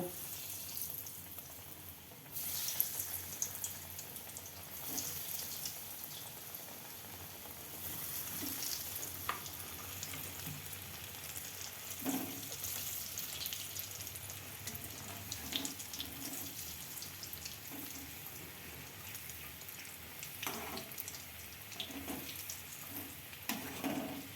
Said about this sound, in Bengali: এরপর আমি এগুলো ভেজে নেব।